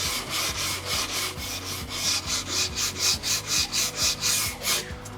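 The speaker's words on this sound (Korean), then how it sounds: "이런 부분들을 사포를 약간 대각선으로 세워서 전부 각을 없애준다는 느낌으로 샌딩을 하면 되겠습니다" Sandpaper is rubbed by hand along the edges of a small shelf made from scrap wood, a steady series of rasping back-and-forth strokes, about three per second, close and loud with no talk.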